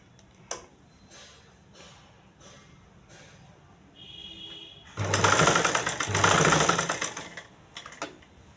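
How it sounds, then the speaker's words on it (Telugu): Sewing machine running a double row of stitching on a blouse neck band, a quiet start with soft ticks building into a loud steady whir for about two seconds, then a few clicks. "పైన డబల్ కుట్టు వేయాలండి."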